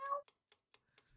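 A single cat meow in a video game opens, followed by four short, evenly spaced ticks, then faint low rumble.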